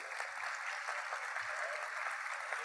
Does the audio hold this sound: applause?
yes